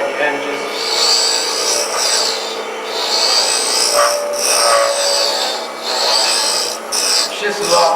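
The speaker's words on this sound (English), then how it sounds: "So you can see how easy it is to sharpen, so that's why I sharpen a lot." Steel woodturning tool being sharpened in a workshop, a steady rasping grind running almost continuously, swelling and easing in long strokes at close range with no voices.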